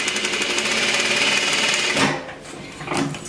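A sewing machine fitted with a rolled hem foot runs a steady, fast stitching whir for about two seconds, then stops, followed by a couple of brief lighter mechanical clicks and a short burst of motor.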